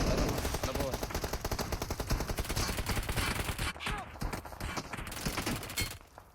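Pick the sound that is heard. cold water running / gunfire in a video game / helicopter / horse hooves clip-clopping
gunfire in a video game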